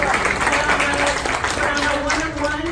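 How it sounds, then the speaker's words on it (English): Audience clapping at a real estate broker panel, a steady wash of applause throughout with some voices mixed in underneath. "Let's give her a big round of applause."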